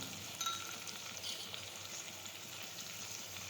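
Crushed garlic chutney hitting hot oil in a pan for an eggplant, potato and tomato curry gives a steady, soft sizzle and crackle with a brief pop near the start, continuing evenly throughout.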